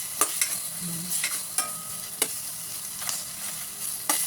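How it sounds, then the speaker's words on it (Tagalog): Meat cooks in a pan with a steady sizzle, punctuated by a series of sharp scraping stirs spaced irregularly, close and clear with no talking. "Haluin natin yung karne, guys. Hanggang sa maluto yung karne."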